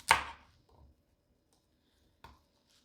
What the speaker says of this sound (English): we're going to cut our asparagus into 2 to 3 inch long segments